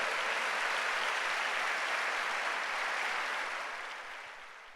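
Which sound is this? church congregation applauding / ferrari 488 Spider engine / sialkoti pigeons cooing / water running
church congregation applauding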